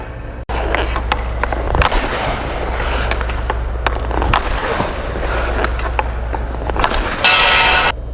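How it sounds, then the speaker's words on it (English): Ice hockey backhand shots, the stick repeatedly striking the puck in a series of sharp, loud cracks over steady rink ambience, with a sustained rattle near the end. "So I'm going to take a few shots now and show you how it looks like."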